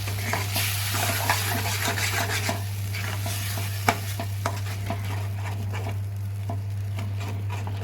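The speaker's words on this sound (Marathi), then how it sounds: "तर मसाले जळू नये यासाठी आपण डाळ ॲड करून घ्यायची आहे पटकन. आणि छान याला हलवून घ्यायचं आहे, मिक्स करून घ्यायचं आहे." Split black gram dal is stirred into hot fried spices in a pan, giving a steady close sizzle with scraping spoon strokes and a few soft clinks throughout, with no voices.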